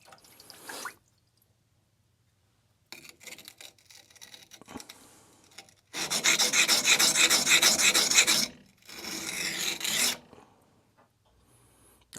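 Newly forged knife bevel rasped against a coarse King 120 grit whetstone, in rhythmic abrasive strokes that come in separate runs, the longest and loudest near the middle, with quiet gaps between.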